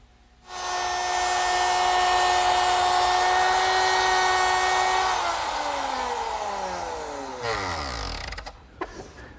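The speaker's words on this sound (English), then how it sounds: "The slots are cut in the rails using a 1/4-inch slot cutting bit" A router fitted with a 1/4-inch slot cutting bit cuts slots in wooden rails, a loud steady high-pitched whine that holds for several seconds, then winds down as the motor coasts to a stop, with no talking.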